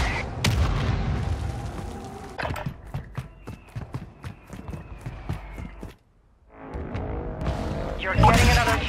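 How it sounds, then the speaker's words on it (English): Mortar strike explosions in Call of Duty MWII, played on PS5: a run of sharp booms and crackling gunfire-like bursts, fairly loud, that drop to near silence for a moment before a heavy burst of blasts returns. "Friendly mortar strike on the way"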